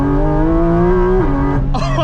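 A Porsche Cayman GT4RS with PDK in Sport and the exhaust on, its engine pulling hard behind the cabin, a loud rising snarl broken by a quick upshift dip and a further sharp, raspy surge.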